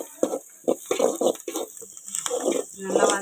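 Ginger and garlic sauté in a pan for quail gravy, giving a steady, faint sizzling hiss under a person talking throughout.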